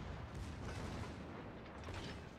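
Torpedo hits in a naval video game, a quiet cluster of dull booming impacts and rumbling bursts that swell and fade over a couple of seconds, with no voice.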